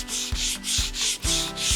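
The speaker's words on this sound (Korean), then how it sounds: "먼저 1차적으로 샌딩 페이퍼를 이용해서 나무를 샌딩해 줄 거예요" Scrap wood sanded by hand with sandpaper along the grain, giving a steady rhythmic run of close, loud scratchy strokes, about five back-and-forth passes in quick succession with no talking.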